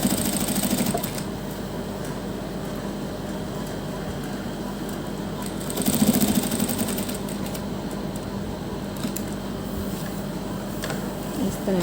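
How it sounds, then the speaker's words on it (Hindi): A sewing machine stitches a neck design along marked edges, running with a steady close mechanical whir and rattle that swells briefly midway, with no talking. "तो देखिए इस तरह से हम सिलाई लगाते हुए"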